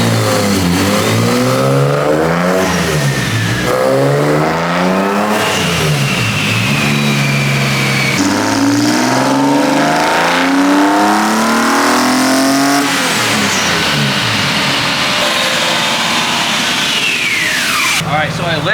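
A BMW S52 engine fitted with individual throttle bodies in an E30 revs hard on a dyno, loud sweeping pulls that climb and fall repeatedly, with voices talking over the roar.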